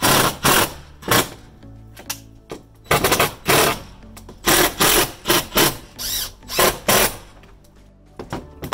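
A power drill drives green deck screws into a wooden gate, its bursts of whirring loud and close, starting and stopping in short repeated runs with brief pauses between.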